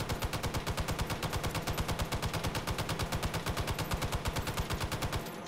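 An M60 machine gun fires in the VR game Hot Dogs, Horseshoes & Hand Grenades: one long, unbroken automatic burst of evenly spaced, loud, punchy shots for about five seconds, then it stops abruptly.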